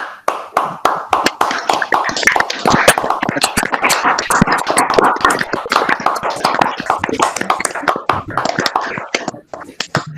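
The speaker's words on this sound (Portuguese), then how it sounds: "dar uma salva de palmas" Participants in an online science talk clap over their open microphones, producing a ragged, uneven patter of sharp individual claps from several people, close and loud, overlapping without a shared rhythm.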